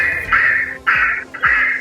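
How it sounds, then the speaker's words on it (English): Three loud recorded duck quacks from the speaker of a four-shot Dog & Field Remote Retrieval Systems air launcher used in gundog training, each a harsh nasal burst with short gaps between them. "So in this case it's a duck sound."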